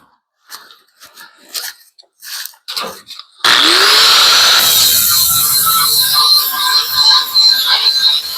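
After several short clicks and snips, a power tool kicks in loudly and grinds steadily, deburring the edges of a bent sheet-metal repair patch, close up and sustained to the end.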